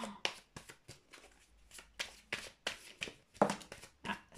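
Tarot cards are shuffled and handled close by, quick papery riffles and flicks in uneven bursts with brief pauses between them, fairly quiet and without other sounds.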